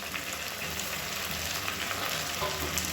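Onions browning in oil with handfuls of mint and coriander and green chilies sizzle and crackle continuously, a steady bright frying hiss with scattered pops, close and alone with no talk.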